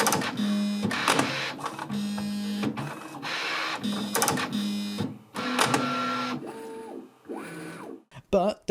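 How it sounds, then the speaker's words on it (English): Cutting rods on an H2D 3D printer flick out in a run of sharp mechanical clacks and whirs, mixed with stepper-motor tones and rising and falling motor whines, close and fairly loud. "these cutting rods flicking out is by far the noisiest thing on this printer"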